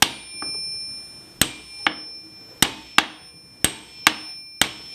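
A hammer taps a bronze bush into a WARN 8274 winch housing: seven or eight sharp, close metallic knocks at uneven intervals, each ringing briefly, with a faint steady high tone beneath.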